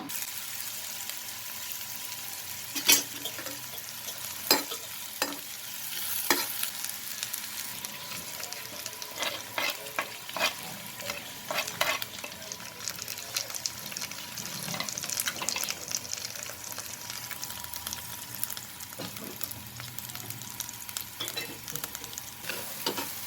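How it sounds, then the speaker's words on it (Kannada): Pre-boiled mixed kidney and liver pepper fry crackles in a pan, a continuous sizzle broken by frequent scraping and stirring knocks of a spoon against the pan over more than twenty seconds. "ಈಗ ಫ್ರೈ ತೋರಿಸ್ತಾ ಇದ್ದೀನಿ. ಪೆಪ್ಪರ್ ಫ್ರೈ ತುಂಬಾ ಚೆನ್ನಾಗಾಗತ್ತೆ."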